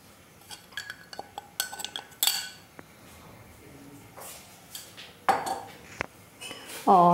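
Custard powder mixed in milk being stirred in a cooking pot, a spoon scraping and clinking against the metal in uneven strokes, close and fairly quiet.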